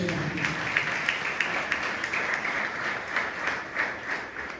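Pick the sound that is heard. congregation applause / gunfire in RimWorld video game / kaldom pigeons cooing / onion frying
congregation applause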